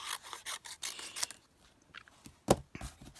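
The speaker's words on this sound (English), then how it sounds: "I'm going to cut them away from the flower" Scissors snip through painted paper leaves, making a series of close, quiet crisp cuts and rustles, with one sharper snip near the end.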